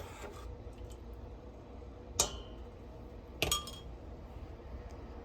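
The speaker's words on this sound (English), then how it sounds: "So I'm gonna just keep stirring this" Two sharp, bright clinks of a spoon striking a bowl while stirring homemade hamburger bun mixture, fairly faint against a quiet background.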